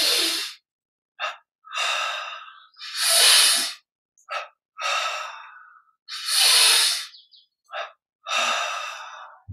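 Deep, slow breaths during a guided breathing meditation: long airy inhalations and exhalations, close and clear, with short sharp sniffs between them and no talking.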